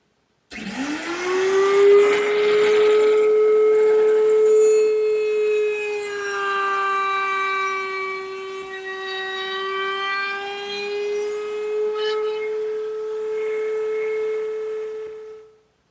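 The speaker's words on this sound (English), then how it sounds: "Now to put this rounded over edge on the inside of this arch, I just used the router table" Router table spinning up to round over the inside edge of a wooden arch on a corner cupboard, a loud sustained high-pitched whine that rises at start-up and wavers as the wood is fed, then cuts off.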